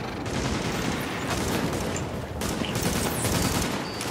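Dense, continuous gunfire from a firefight in The Division video game: rapid automatic bursts and blasts merge into a loud, unbroken roar with short dips between volleys, and no talking.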